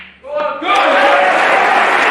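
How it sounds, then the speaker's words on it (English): A snooker crowd cheering John Higgins after his century break, a brief murmur swelling into loud sustained cheers and applause close by. "a big cheer for the Scotsman"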